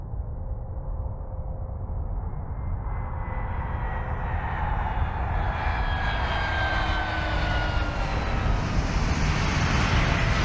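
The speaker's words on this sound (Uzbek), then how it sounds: "Barselonadan parvoz qilgan samolyot hozirgina qo'ndi" A passenger airplane lands after a flight from Barcelona: a steady, loud jet roar with broad rushing noise and a faint rising whine that builds over several seconds, with no voices.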